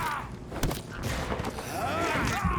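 Gunfire in a vampire-themed action video game boss fight, loud bursts and booms layered over busy game effects and a man's speech throughout, steady and close.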